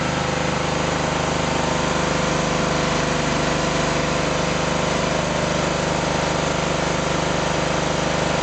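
A Toro 3100 mower engine roars steadily at full throttle, a loud, constant mechanical drone with no letup and no voices.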